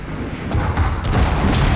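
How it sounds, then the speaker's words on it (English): Incoming cannon fire in Shogun 2 Total War Fall of the Samurai, a brief rumbling boom swelling over a dense low battlefield din, fairly loud and with no speech. "here comes incoming cannon"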